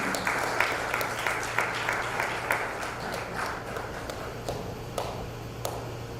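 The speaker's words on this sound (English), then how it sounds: "please join me in welcoming him up to the stage with a round of applause" An audience at the Indian Consulate General in New York gives a round of applause to welcome a speaker to the stage, a modest, steady patter of clapping heard from a distance with a low hum underneath.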